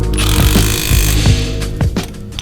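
Power tool tightening the bottom strut bolt on a Lexus IS300 during a BC Racing BR Series coilover install, heard as a few short, loud mechanical bursts over steady background noise in a garage.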